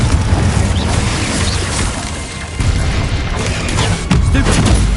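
Confringo blasting spell in Hogwarts Legacy, a run of loud booming blasts and crashes that punch through dense game action for several seconds.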